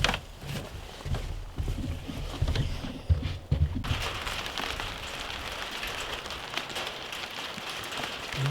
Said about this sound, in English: We may have a rain delay.